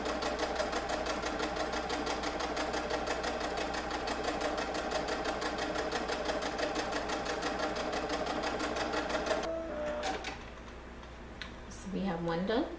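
A sewing machine runs steadily, stitching a fabric ruffle strip for a peasant dress with a fast, even mechanical patter, then stops near the end as fabric is handled briefly before it starts again.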